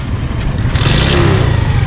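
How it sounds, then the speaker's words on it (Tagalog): A delivery motorcycle, its chain recently broken and repaired, runs with a steady, loud engine drone and is revved up through the gears, with a brief higher-pitched surge partway through. "start mo makina, paandarin mo hanggang 4th gear. Ibirit mo."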